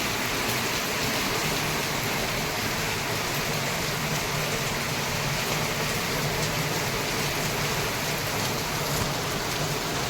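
Heavy rain pours down steadily, a dense, unbroken hiss of drops drumming on surfaces, loud and constant throughout.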